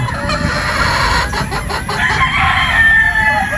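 Pullet chickens in pens clucking loudly and continuously at close range, with a rooster crowing partway through.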